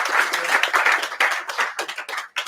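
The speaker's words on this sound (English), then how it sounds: "Can we please have a big applause for Aleksander Sorokin?" Clapping from a small audience at a JavaScript meetup, a handful of hands producing uneven bursts of claps that thin out and fade toward the end, heard on its own without speech.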